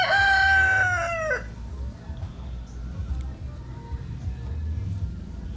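A rooster crows loudly nearby for just over a second, then softer chicken clucking and farmyard noise continue in the background.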